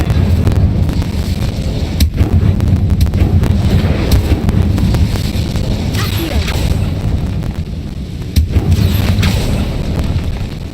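An Incendio fire spell is cast in the video game Hogwarts Legacy, loud booming blasts and sharp cracks erupting over a dense, rumbling roar that continues throughout.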